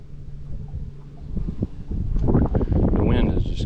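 Wind buffets an outdoor microphone during a summertime crappie fishing trip, a low rumbling roar that starts moderate and swells louder and more gusty through the second half.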